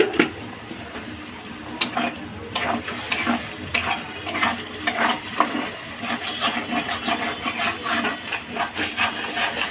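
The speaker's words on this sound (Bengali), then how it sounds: "এবার সমানে নাড়তে থাকবেন" Mushrooms, papaya, potato and soybean vegetables frying with turmeric and salt in a pan, stirred continuously: close steady sizzle with repeated spatula scrapes and knocks against the pan, no talk.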